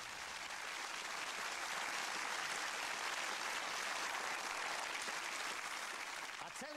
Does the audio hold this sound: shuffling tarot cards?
no